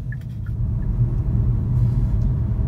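A car rolls through city traffic toward a traffic light with regenerative braking engaged, a steady low road rumble and soft hum from inside the cabin, with a few faint brief chimes early on.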